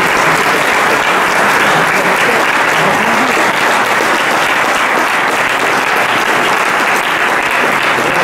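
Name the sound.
audience applause after a debate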